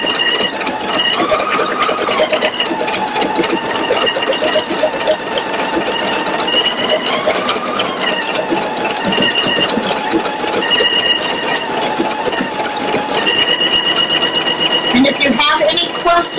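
A Pfaff Creative Icon 2 embroidery machine stitching an in-the-hoop applique project runs with a continuous, close, rapid mechanical whir and needle rattle at steady loudness throughout.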